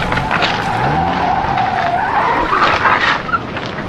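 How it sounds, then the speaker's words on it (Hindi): A car's tires skid and spin in soft sand, a loud continuous grinding screech that rises and wavers, close up, with no voices. "नरम रेत में टायर धंस गया।"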